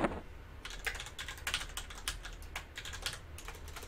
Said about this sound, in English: This gaming keyboard is not good for typing.